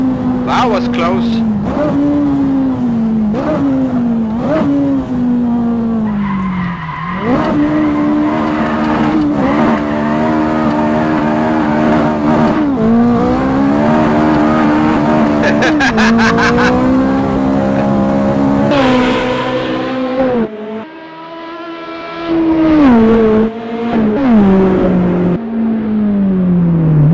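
A Toyota GT458 engine swap in Assetto Corsa revs hard and continuously through repeated gear changes, with tire squeal from drifting. Someone talks over the engine throughout.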